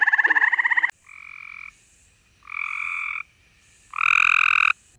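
An eastern gray tree frog calls in a warm setting, a fast pulsed trill up close followed by three separate long, loud trilling calls with short pauses between them and nothing else around.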